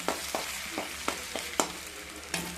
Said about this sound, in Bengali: তো এখানে আলুটা আমি ভালো করে একটু ফ্রাই করে নিচ্ছি